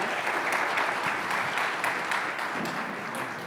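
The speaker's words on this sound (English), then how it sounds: "Round of applause." Applause from a pitch competition audience, steady, dense clapping that holds evenly for several seconds with no break, full and moderately loud, with no clear speech over it.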